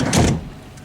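The sliding side door of a Nimbus 365 Coupé boat glides along its track in one short, close whoosh that fades quickly.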